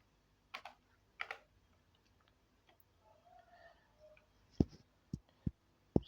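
Sparse keystrokes on a computer keyboard, a few isolated quiet taps followed by a quick cluster of sharper clicks near the end, close and faint with no talking.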